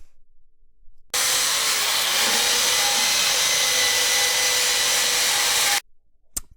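A power sander strips paint and the top layer of aluminium from an alloy wheel rim, a loud continuous whirring rush that starts abruptly, holds steady for about five seconds, then cuts off.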